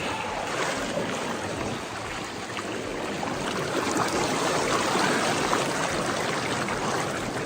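Strong river current pushes past a swimmer in a cold Colorado river near Telluride, a dense, unbroken rushing wash that stays loud and close throughout with no talk.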